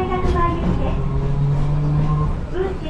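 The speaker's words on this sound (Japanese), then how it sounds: "懐かしい、吊りかけモーター音がします。" A Toyama street tram with nose-suspended traction motors rumbles along, its motor whine rising as a steady tone over clattering running noise, heard from the front seat with faint talk in the background.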